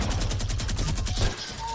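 Rapid Fortnite gunfire rattles in a fast, even burst of loud, close shots that stops abruptly after about a second.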